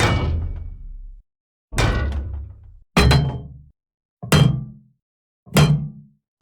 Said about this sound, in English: Next is these metal layers from Mega Gear.